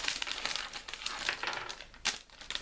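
Paper leaflets from a Playmobil knight and dragon set are handled and crinkled up close, a continuous rustling with a few louder crumpling bursts and no talking.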